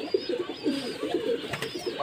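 Pet pigeons coo nearby in soft, repeated low throaty rolls over a faint background hiss.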